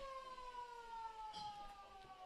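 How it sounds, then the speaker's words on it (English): A long, steady siren tone wails in the distance at a football ground before a match, sustained and slowly falling slightly in pitch, with faint crowd noise beneath. "As we are about to get underway, you hear the siren sound."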